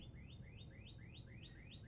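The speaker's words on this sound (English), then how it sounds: "Can you hear that beautiful bird in the background?" A songbird repeats the same short chirping phrase about every quarter second, faint and distant under a low background hum, with no one talking.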